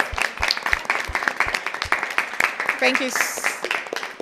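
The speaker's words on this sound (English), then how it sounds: "Can we give ourselves a round of applause?" An audience at a West End Gospel Choir show applauds with steady, broadband clapping, individual claps standing out sharply at the start, while a voice speaks briefly over it near the end.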